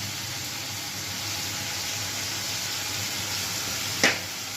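Masala spice paste with turmeric and salt frying in a pan gives a steady, even hiss and sizzle, with a brief louder crackle near the end and no talking.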